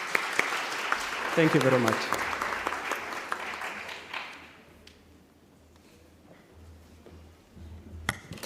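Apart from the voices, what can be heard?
audience applause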